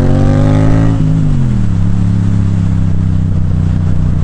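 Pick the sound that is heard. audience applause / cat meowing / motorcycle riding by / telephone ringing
motorcycle riding by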